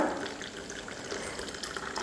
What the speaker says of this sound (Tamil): கொள்ளு வேக வச்ச தண்ணியும் இது கூடயே சேர்த்துடலாம்